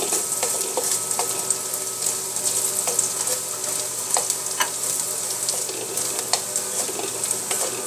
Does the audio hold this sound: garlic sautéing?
yes